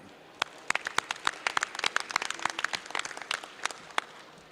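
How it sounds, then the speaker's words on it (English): At a press event at New Orleans International Airport, a modest crowd applauds with distinct, individual claps in an irregular patter that stays fairly close and clear, with few voices. "I ask everyone to pause for a moment and applaud the state"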